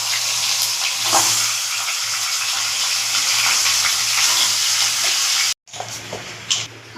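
Fish frying in hot oil for a fish-head recipe, a loud, continuous close sizzle that cuts off abruptly near the end and is followed by quieter crackle and a couple of sharp clatters.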